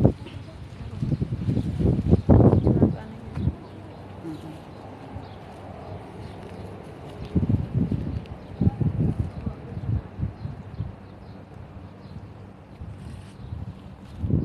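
Strong wind blowing outdoors at a birthday gathering, hitting the microphone in heavy low rumbling gusts, loudest around two seconds and again from seven to nine seconds, with quieter steady buffeting between.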